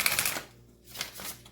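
Tarot-style True Love reading cards riffle and slide in a brief, soft shuffle, a quick papery flutter at the start followed by a lighter second burst, close and quiet.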